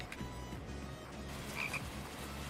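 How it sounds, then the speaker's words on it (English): A frog croaks in a steady, pulsing series throughout, fairly close and clear over a continuous outdoor background hum, with a brief higher chirp near the middle. "Oh, frog."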